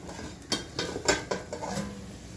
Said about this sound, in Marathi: आता आपण हे उघडून बघूया।